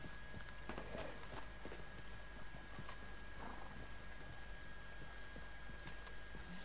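Hooves clop sporadically from a horse in Red Dead Redemption 2, scattered footfalls at moderate distance beneath a constant steady hiss of game ambience, with no talking.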